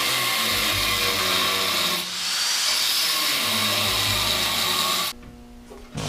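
A power tool cuts metal for a car's inner fender, giving a loud, harsh hissing grind that runs continuously for about five seconds with a short dip midway, then stops into quieter clatter.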